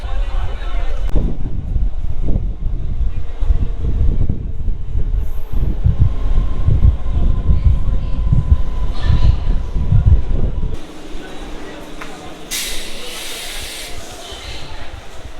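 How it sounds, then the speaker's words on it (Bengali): A Howrah–Digha local train pulls into Phuleshwar station with a loud, close rumble of wheels and carriages that fades toward a quieter stop and a brief hiss, with voices in the background. "ফুলেশ্বর এসে পৌঁছালো ট্রেন কিন্তু এখনও পঁচিশ মিনিট মতো লেট রয়েছে"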